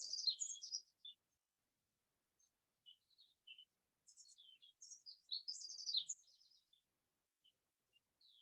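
Small birds chirp in scattered bursts, high thin calls near and clear against near silence, with short pauses between phrases.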